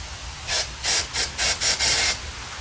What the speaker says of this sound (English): Going to spray a little bit of carb spray in through these little holes here.